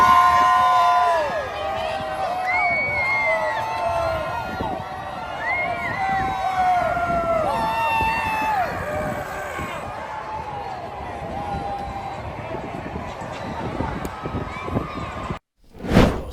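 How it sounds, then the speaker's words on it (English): Large stadium crowd of students and fans from South Carolina and Clemson at a football game, roaring and cheering loudly throughout, with rising chant-like swells and whistles, cutting out briefly near the end. "Now the crowd, a blend of students and fans from both South Carolina and Clemson, united under a chorus of USA chants"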